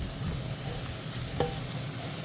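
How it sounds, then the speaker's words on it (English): Broccoli goes into a hot pan already cooking with onions, hot pepper, garlic and pimento, giving a steady close sizzle and frying hiss with one brief louder clink partway through. "I'll drop our broccoli in now"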